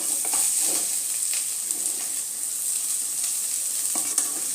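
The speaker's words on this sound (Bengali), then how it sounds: "দু পিঠই আমাকে লাল লাল করে ভাজতে হবে।" Steady, bright sizzling of food frying in a pan, with occasional soft scrapes and clinks as pieces are moved around; no voices.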